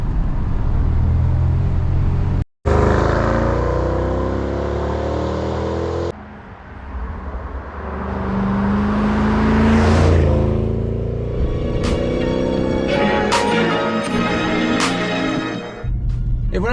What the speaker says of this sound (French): que la CL63 AMG vous a séduit, qu'elle vous a envoûté avec son doux V8